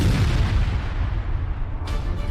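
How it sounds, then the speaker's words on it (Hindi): Bombs exploding in a bombardment on Hezbollah positions in Lebanon, heavy low booms rumbling and rolling together, with a sharper burst near the end. "एक साथ धमाके पर धमाके होते जा रहे हैं।"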